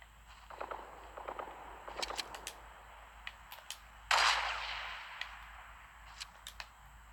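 A sniper rifle shot cracks loudly once in Fortnite, with a sharp onset and a trailing decay, amid scattered quieter footsteps and game clicks before and after.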